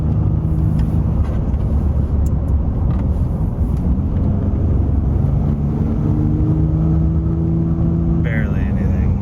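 A 2021 Ford F-150 EcoBoost with a Roush active exhaust runs with its valves open, giving a steady, loud low engine drone heard from inside the cab, with a faint rising tone near the end.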